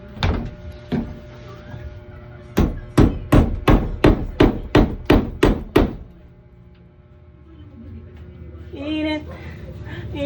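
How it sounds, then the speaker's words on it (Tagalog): Hammer strikes driving nails into plywood during a DIY room rebuild: a couple of blows, then a quick run of about nine sharp, loud, evenly spaced bangs, followed by quieter room noise and a brief squeak near the end. "Pako na natin."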